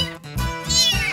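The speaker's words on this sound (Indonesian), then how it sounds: "emang kalau meong jantan kayak gini suaranya" A male kitten about nineteen days old meows in a close, loud, slightly hoarse run of two or three drawn-out harmonic cries, heard alone.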